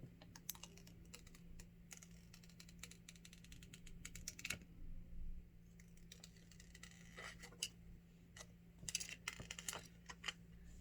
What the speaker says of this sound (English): we're going to take off the plastic right now. So I know you guys like to hear that